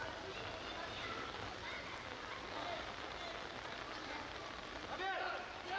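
Heavy rain pours steadily over an outdoor football pitch during a Bengaluru semi-final match, a dense continuous hiss of drops with faint crowd and play noise beneath.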